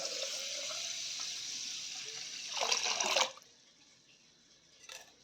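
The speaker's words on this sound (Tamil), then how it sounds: "அரிசிக்கு நாலு கப் தண்ணி சேர்த்துக்கலாம்" Water streams steadily into a pot of rice, swelling to a louder splashing pour before stopping, followed by a brief faint splash.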